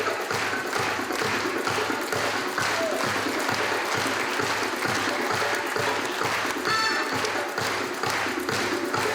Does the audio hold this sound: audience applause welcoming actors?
yes